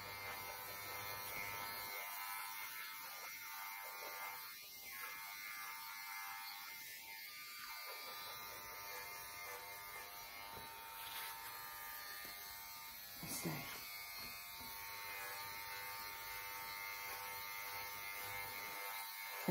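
Electric clippers buzz steadily on a terrier mix dog's harsh coat during grooming, a constant close, thin hum with brief pauses and small shifts in pitch as the blade moves through the fur, a quiet voice occasionally audible.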